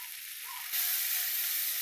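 Masala with green chili sizzles in a pan, a steady bright hiss that jumps louder midway and then holds, close and continuous with no voices.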